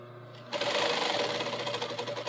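A sewing machine runs steady straight stitch lines on belt loops, presser foot guided along the edge; a dense, fast mechanical whir starts abruptly after a brief quiet moment and continues loudly and evenly.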